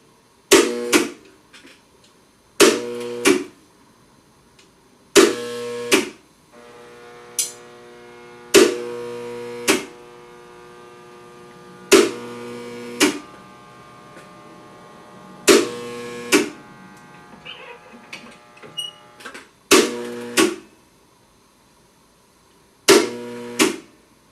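A spot welder fuses steel rails in about ten separate buzzing bursts, each a second or so long with a strong electrical hum, spaced by short quiet gaps.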